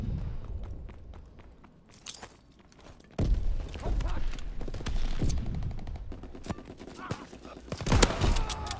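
Sniper rifle shots and other gunfire ring out in Call of Duty, with sharp bursts and booming impacts over constant game noise while a player talks excitedly.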